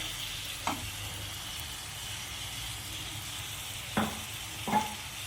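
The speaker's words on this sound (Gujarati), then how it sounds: "જો આ રીતે શાક ચલાવી લીધું છે મેં" A vegetable curry with a chopped tomato sizzles steadily in a pan, a close, even frying hiss punctuated by three distinct spatula knocks and scrapes against the pan as it is stirred, with no voices.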